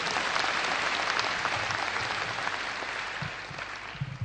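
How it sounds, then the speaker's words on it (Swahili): A crowd at an Akurinu church gathering claps in sustained, dense applause that stays loud throughout and eases slightly toward the end, with no voices rising above it. "Tumpigie makofi."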